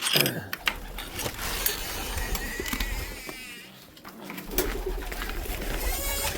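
Domestic white homing pigeons in a new loft, soft cooing and wing shuffles, with mechanical clinks and rattles nearby, fairly close and moderately loud.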